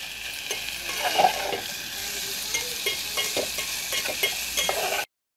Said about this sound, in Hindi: प्याज भुन गए हैं